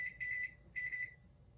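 A kitchen timer being set gives two short bursts of rapid high beeping separated by a brief pause, quiet and close, with no talk.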